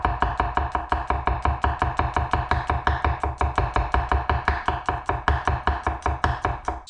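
Garlic cloves chopped with a knife on a board, a rapid, even run of close, crisp knocks that carries on steadily for several seconds, with no one talking.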